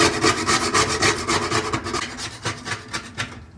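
Rust being scraped and shaved off part of an Amana washer makes a close, rapid rasping scrape, repeated in quick strokes of fairly even rhythm.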